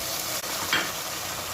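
Onions sizzle in a pan with a mint, coriander and green chili paste for mutton curry, a steady close-up frying hiss with one brief stirring scrape partway through.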